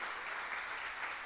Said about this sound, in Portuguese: com uma linda salva de palmas